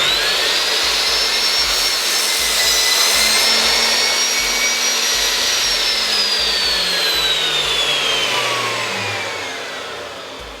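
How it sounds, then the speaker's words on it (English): A DeWalt telescopic sliding mitre saw whines loudly at full speed as its blade is brought down through wood, the steady high motor tone bending in pitch under load and then easing off toward the end. "we bring the saw blade down in contact with the wood"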